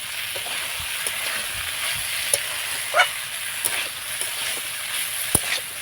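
Eggs poured over figs fry in a pan with a faint, steady sizzle, broken by a few soft scrapes and taps of stirring.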